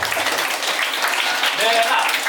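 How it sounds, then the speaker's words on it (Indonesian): Children and staff at a one-day English and character camp clap together in a continuous, fairly loud wash of applause, with voices and cheering mixed in throughout. "tepuk tangan buat Bella"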